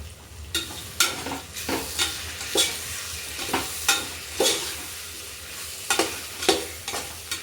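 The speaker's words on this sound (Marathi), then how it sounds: "आता छान असं मस्त मसाले परतून घेणार आहे बघा" Spices for a veg biryani are sautéed and stirred in a pan. A spoon scrapes across the pan in about a dozen sharp, rhythmic strokes over a soft, constant sizzle, close and with no voices.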